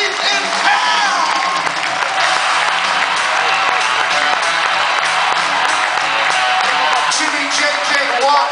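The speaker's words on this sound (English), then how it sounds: "Put your hands together, get them clapping for my good friend, Mr. Chris Porter." Loud, sustained applause and cheering from a comedy club audience at the Borgata welcoming comedian Jimmy J.J. Walker, with whoops and shouts rising over steady dense clapping throughout.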